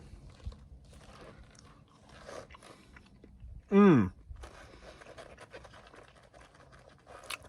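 Someone chews Fruity Pebbles French toast up close, with soft, steady crunching and mouth sounds throughout, interrupted midway by one loud, rising hummed vocal exclamation.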